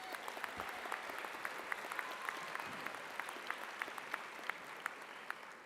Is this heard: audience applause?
yes